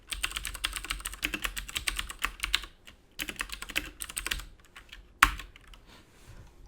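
Rapid typing on a computer keyboard while entering a line of code, with dense close clicks in quick bursts, a short pause near the middle, then sparser keystrokes and a sharp final tap.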